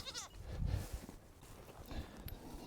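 Goats out in a pasture give a short bleat near the start, followed by quieter shuffling and soft rustling in a calm outdoor setting.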